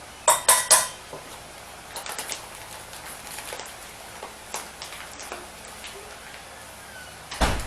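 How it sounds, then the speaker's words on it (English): A whisk stirs cornbread mix in a bowl, giving a quick burst of loud metallic clinks at the start and then lighter, scattered scraping taps close by. "Kind of just whisk that around."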